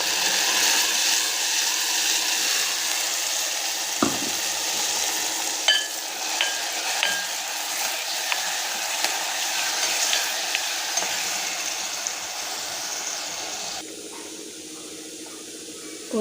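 Ground tomato added to a hot pan for vatha kuzhambu, sizzling and frying steadily and loudly throughout, with scattered stirring clicks and a brief clatter partway through.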